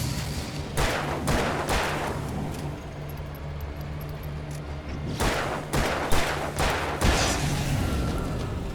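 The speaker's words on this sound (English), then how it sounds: "Just shotgunned him, to be frank." Shotgun blasts in Alan Wake Remastered, a burst of several loud booming shots in quick succession, a pause, then another volley, over a low steady game ambience.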